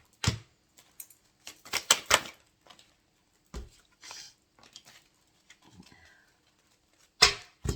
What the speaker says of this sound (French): on va recouvrir avec ces 4 cartes